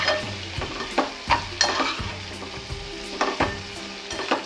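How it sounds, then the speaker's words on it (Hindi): Potato kheema with Kashmiri red chilli powder frying in a pan over a high gas flame, stirred with regular scraping strokes over a steady sizzle, close and without voices. "इसको अच्छे से चला लेंगे।"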